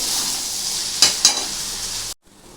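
Mixed fried rice is stirred in a pan over a gas flame against a steady frying hiss. Two quick scrapes of the spatula stand out midway, then the sound cuts off abruptly.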